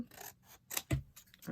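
Scissors snip through a paper sewing pattern, trimming off its top, in a few quiet, separate cuts with soft rustling between them.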